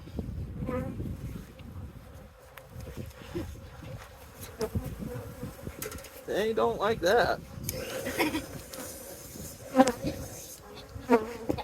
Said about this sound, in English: Oh, there's some guard bees.